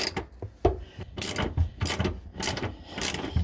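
Socket wrench with a deep 10 mm socket working loose a tight bolt on a 2004 Saturn Vue's EVAP vent valve, giving a run of close, sharp ratcheting clicks in uneven bursts with brief pauses between strokes.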